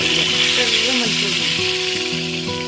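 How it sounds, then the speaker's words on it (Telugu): Tempering for Andhra-style gongura dal sizzles loudly and steadily the whole time as it hits the pot, with a faint voice or tonal sound running beneath the frying. "ఇప్పుడు గోంగూర పప్పు వేసేస్తున్నాను తాలింపు."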